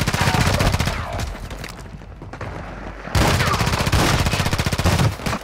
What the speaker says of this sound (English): Somebody shooting me from behind.